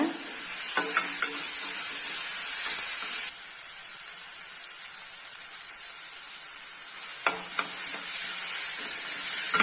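Bitter gourd being sautéed with turmeric powder in a pan on low heat, a steady high hiss of frying throughout, with a few short stirring scrapes near the start and end.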